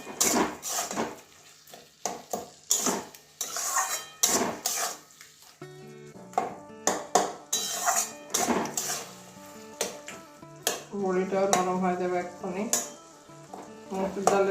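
Amaranth greens cooked with bori lentil dumplings are mixed with sugar in a pan, producing irregular clinks and scrapes of a spatula against metal in uneven bursts over a faint sizzle, close by and without voices.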